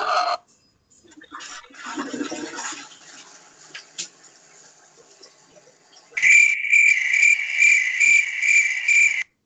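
Soundboard cricket chirps ring out loud and steady in the last few seconds, a pulsing rhythmic trill, after a stretch of quieter indistinct noise and faint chirps earlier.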